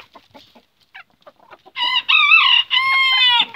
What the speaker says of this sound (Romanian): Aici am o găină Brahma Columbia.